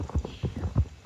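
Horse hooves galloping in the video game Star Stable on a new Brabant horse, a quick rhythmic clip-clop of muffled thuds repeating steadily, close and clear.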